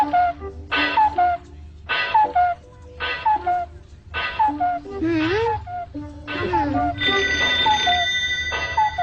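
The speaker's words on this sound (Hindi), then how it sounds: "हाँ, अरे फोन बज रहा है।" Telephone ringing in a Hindi-dubbed Doraemon cartoon episode about a prank caller, a loud repeating bell-like electronic ring in regular bursts with brief gaps, joined by other tones and voices toward the end.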